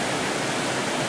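The Fotinovo waterfalls near Fotinovo village roar as a loud, unbroken broadband rush of falling water over wet rocks, close by and steady throughout.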